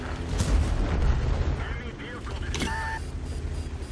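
A tank gun in the World of Tanks game fires with a heavy, booming report and a brief mechanical clank after it, while someone talks over the action.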